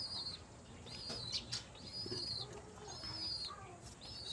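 Pigeons waiting to be fed, with soft coos and flutters of wings around them, faint chirps repeating every second or so over a steady outdoor background hiss.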